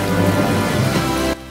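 Rain and thunder from a film scene, dense loud downpour hiss with deep rumbling underneath, cutting off abruptly near the end, with no talk.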